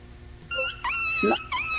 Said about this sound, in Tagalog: May aso lang na bantay.